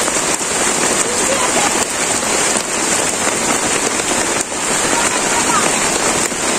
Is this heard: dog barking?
no